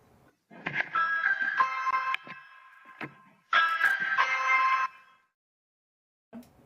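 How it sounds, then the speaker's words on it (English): Doorbell at a New Hampshire home pressed by a black bear, chiming in two separate bursts of ringing electronic tones with a soft knock or thump between them, fairly faint, as if picked up by a doorbell camera. "Ring camera video shows the curious bear ringing the doorbell and looking in a nearby window."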